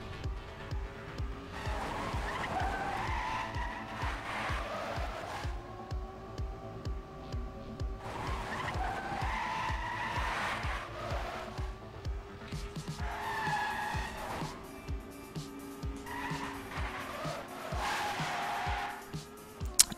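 Race cars skidding in a 24-hour racing video game: repeated tire-squeal bursts over a constant engine drone, three long waves of squealing a few seconds apart, moderately loud with no voice.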